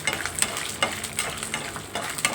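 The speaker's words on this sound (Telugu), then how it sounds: "ముందుగా వేయించుకోవాలండి వేరుశనగ పలుకులు" Peanuts frying in a pan for raw mango pulihora while being stirred: a steady close sizzle with repeated scraping, rattling sweeps of the spoon, no talk.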